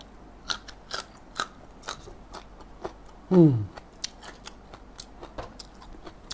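Crunchy bites and chews of cooked freshwater giant prawn, close up, with sharp scattered clicks and one louder crunchy burst midway; no talking.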